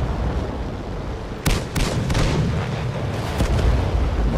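Explosions and cannon fire in the tank game World of Tanks, with an M24 Chaffee and a Firefly nearby: loud booms land at intervals over a dense, roaring battle rumble, with no voices.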